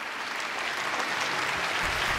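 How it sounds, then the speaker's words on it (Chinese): A TV dating-show studio audience claps to welcome an older guest couple onto the stage, a steady wash of dense applause throughout with no speech over it. "掌声有请"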